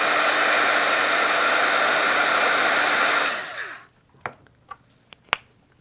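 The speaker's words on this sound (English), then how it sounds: "I'm gonna do the thing where I hit it with my heat tool." A heat tool blows hot air over Copic marker coloring with a steady, strong whoosh for about three seconds. It then shuts off, and a few sharp clicks and taps follow in the quiet.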